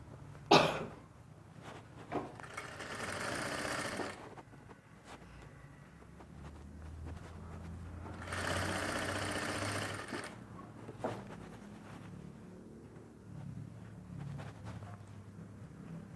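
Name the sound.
sewing machine stitching a winter dress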